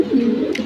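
A homer pigeon gives a single short, soft coo, close by and clear, with no other sounds around it.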